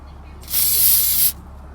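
Short burst of aerosol clear coat sprayed onto steering wheel control buttons, a single steady hiss lasting under a second, close and fairly loud.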